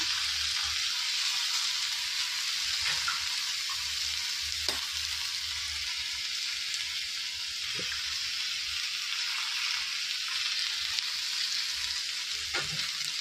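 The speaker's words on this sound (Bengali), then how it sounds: "ডিমের ভুজিয়া করছি" Two eggs fry in hot oil in a pan for egg bhujia, giving a dense, even sizzling hiss that runs unbroken and close, with a few faint stirring taps and no voices.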